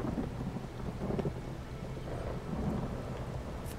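Thunderstorm with rain in the video game Elder Scrolls Online; a steady wash of rain carries a low, rolling rumble of thunder through the whole stretch, with no talking.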